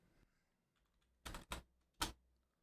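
A few clicks on a computer keyboard in a quiet room: three sharp keystrokes in quick succession, close and distinct, with no voices.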